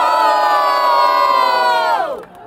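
A rap battle audience roars and cheers loudly for about two seconds, a dense sustained wall of shouting voices that drops off abruptly near the end.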